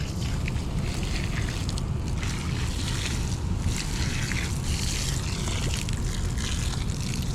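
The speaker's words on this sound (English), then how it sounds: "I'm gonna put a little more water on it." Water poured onto a winter riverside campfire beside the Mississippi River gives a steady, loud hissing rush with no pauses and no voices.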